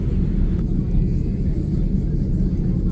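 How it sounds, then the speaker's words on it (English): A Virgin Atlantic Airbus A330neo taxis on the ground, heard from inside the cabin as a loud, steady low engine rumble that fills the whole moment without a break. "So here we are taxiing alongside another Virgin Airbus A330neo or 900"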